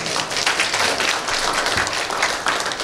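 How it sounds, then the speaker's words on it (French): Audience applause after a panel of four speakers at a French talk with students, a steady dense patter of many hands clapping throughout at moderate loudness. "je vous laisse les applaudir."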